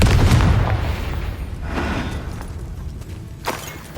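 Explosive blasting-spell hits in the Hogwarts Legacy video game: a heavy boom at the start that rumbles away, followed by a couple of sharper bursts, with no speech.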